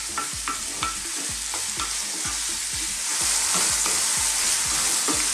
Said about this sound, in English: I want to be cooking these. It's going to take about 4 or 5 minutes for this size shrimp